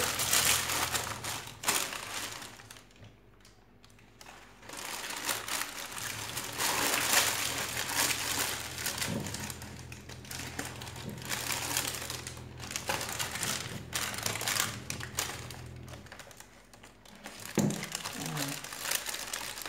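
Paper crinkling and crumpling as it is wrapped and tied with string around a Marrakech tanjia clay pot holding lamb trotters, irregular close rustles that rise and fall over nearly twenty seconds with some background noise.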